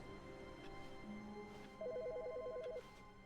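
A telephone rings in The Stanley Parable, a steady repeating electronic trill sounding clearly over a low game ambience, about a second long.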